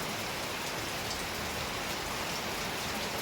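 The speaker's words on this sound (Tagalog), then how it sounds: "Ang problema, lakas ng ulan." Steady, dense hiss of heavy rain pouring down without pause, loud and close, with no voices.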